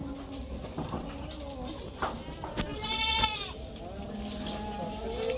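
Goats on a farm bleat now and then, one sharp wavering call standing out midway, against steady background noise and faint bird sounds.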